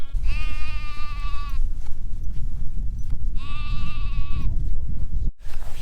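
On the island of Hoy, a sheep bleats twice, loud and close, each call a long wavering cry of about a second and a half, over a blustery outdoor background.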